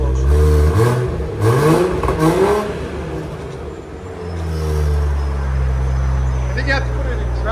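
A Toyota Supra GR with its 3.0L inline-six and aftermarket exhaust revs hard twice in quick succession, then settles into a loud, rising sustained rev, close up, with a voice speaking over the engine.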